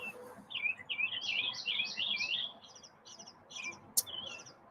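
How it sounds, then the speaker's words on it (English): Birds chirp in quick, bright bursts over a low outdoor murmur, the calls repeating for a few seconds before fading, with one sharp click near the end. "So many birds."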